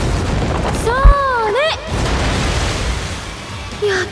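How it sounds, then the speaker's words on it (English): Soul bomb attack animation in the mobile game Bleach Brave Souls, a deep boom followed by rising and falling synthetic whooshes and sweeping tones, then a rumbling tail and a second burst near the end, loud and close. "I'll just go ahead and play the soul bomb animation for the entire video"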